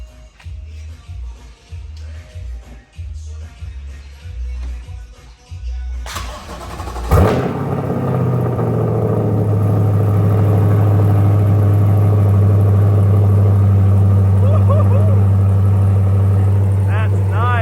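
A C8 Corvette fitted with FabSpeed headers, catalytic converters and exhaust cranks over and fires up loudly, then settles into a deep, steady, booming idle; quieter background noise and voices come before the start.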